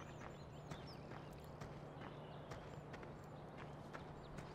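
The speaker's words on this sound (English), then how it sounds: "Got horses just roaming around out here" Horses roaming a farm in Farming Simulator 17, with faint, irregular clip-clop hoof steps over a low steady hum of ambient game noise.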